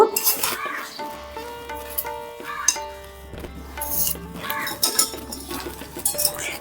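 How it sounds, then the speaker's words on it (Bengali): A spoon stirs squeezed, cooled boiled cabbage into beaten eggs in a bowl, with repeated clinks and scrapes against the dish over a faint low hum. "মিশিয়ে নেব ডিমের সঙ্গে।"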